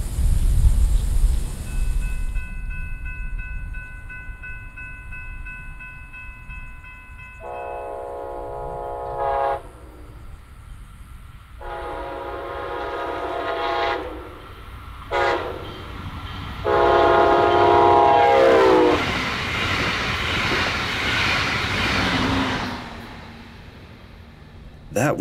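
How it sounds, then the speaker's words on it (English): A Brightline passenger train running from Miami north to Orlando on the FEC line through Jonathan Dickinson State Park sounds several long horn blasts at a grade crossing, then roars past with a rising rush of wheels and wind. "That was a Brightline train hurrying along on its journey from Miami north to Orlando."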